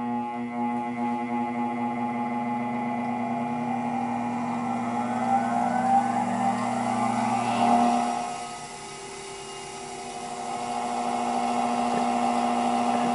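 A bench grinder with one wheel slightly out of balance hums steadily with a low tonal drone, then winds down briefly before spinning back up, carrying a slight wobbling vibration.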